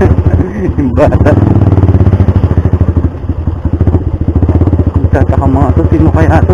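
A Rusi Mojo 200cc motorcycle rides a muddy road, its engine thumping in a close, pulsing rhythm with rattles and knocks as it moves, while a rider talks over it.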